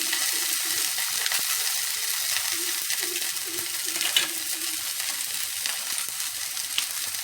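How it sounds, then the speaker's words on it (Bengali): Spice paste with turmeric and ginger paste sizzling and frying steadily in a pan, a continuous close crackle with faint stirring scrapes and no talk. "একটু হলুদ গুঁড়ো আদা বাটা দিয়ে আমি মশলাটা কষিয়ে নেব"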